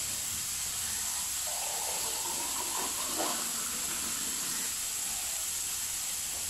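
Water poured into a pan of frying tilapia sets off a steady hiss of steam and sizzling that swells midway, then settles into a continuous wash of noise.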